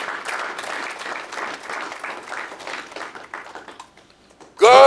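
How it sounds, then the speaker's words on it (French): A church congregation claps their hands together, a dense, loud burst of applause that thins out and fades before a sudden new sound cuts in at the end. "Let us clap our hands."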